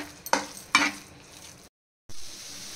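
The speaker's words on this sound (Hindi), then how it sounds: "इसमें 1 चम्मच के बराबर घी ऐड करेंगे और इसको 2 से 3 मिनट तक मिडल आंच में पकाएंगे।" Paan modak batter cooks with ghee in a pan over medium heat, two distinct scraping stirs standing out over a low sizzle before a brief silent gap and then a return of quiet frying noise.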